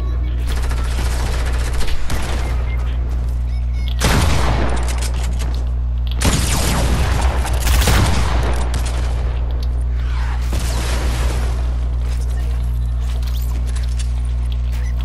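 Fortnite gunfire blasting through a wall in several loud, close volleys, with gaps between bursts and a steady low hum underneath.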